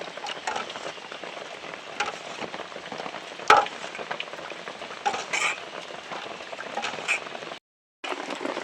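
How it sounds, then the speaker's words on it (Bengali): Homemade mango frooti mixture being stirred with water in a pot, a soft continuous swishing with occasional spoon clinks against the vessel, faint and close, with a brief dropout near the end and no talking. "এবার এইভাবে কিছুক্ষণ আমি নাড়িয়ে নেব"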